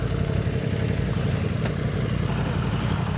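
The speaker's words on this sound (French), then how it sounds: "ta moto elle fait un bruit" A Yamaha MT-10 motorcycle engine runs with a steady, loud low rumble, held continuously and close, with no talking over it.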